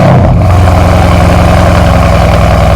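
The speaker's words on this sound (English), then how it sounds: "I'm here with my C63s, and we're gonna cold start it." Mercedes-AMG C63s engine at cold start, a very loud, close, deep rumble that catches with a sharp burst and then settles into a high, steady idle with strong low throb; no talking.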